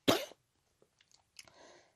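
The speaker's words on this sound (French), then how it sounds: "Qui c'est qui tousse? C'est moi." A woman gives one sharp, loud cough up close, followed by a few soft rustles and a small throat noise in an otherwise quiet room.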